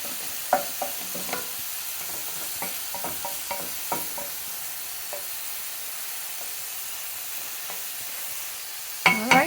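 Mushrooms for chicken and shrimp fajitas fry in a pan with a soft, steady sizzle, punctuated by scattered pops and spatters and a louder burst at the very end, close and unvoiced.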